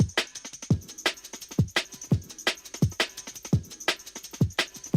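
The drum break loop plays on its own, kick and snare hits alternating in a quick, steady rhythm with bright, crisp cymbal texture.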